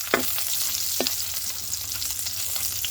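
Pork sizzles steadily in its own rendered fat, a loud, even hiss with a couple of sharp scrapes or pops near the start, nearby and with no talking.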